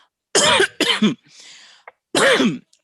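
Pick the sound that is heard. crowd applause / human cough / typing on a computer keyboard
human cough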